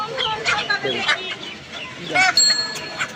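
Desi chickens cluck and squawk in short repeated bursts at a busy chicken market, with people talking and bargaining in the background.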